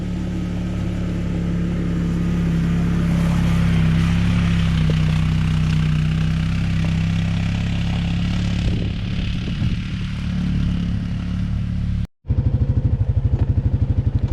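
Can-Am Outlander 500 ATV engine on a first ride in two-wheel drive, a steady close drone that shifts near the end as it goes into high range, then a brief cut before a rougher, pulsing idle-like note.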